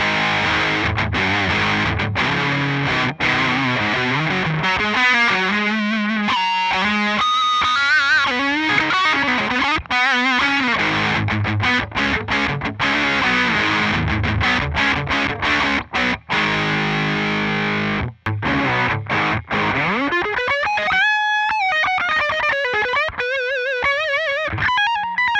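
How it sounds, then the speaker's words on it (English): Electric guitar played through a Dark Mouse distortion pedal with the gain maxed out, a thick, saturated tone ringing through chords and single-note phrases with sustained, fuzzy notes and brief gaps between passages. "check out this Dark Mouse distortion pedal"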